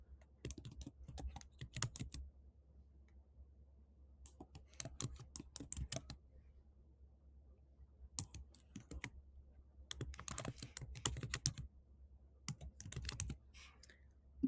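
Fast typing on a computer keyboard while an email address is entered on a login page, with close, crisp key clicks in several short bursts separated by quiet pauses, no talking.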